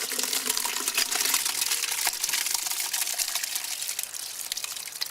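Crushed grape juice for homemade wine pours steadily into a bucket with a continuous splashing gush, loud and close, running for several seconds with no talk.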